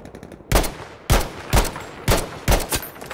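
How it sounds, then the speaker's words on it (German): Sniper rifle shots in Battlefield V crack loudly and close, five sharp reports spaced roughly half a second apart, each with a short echoing tail. "Das ist ein Sniper."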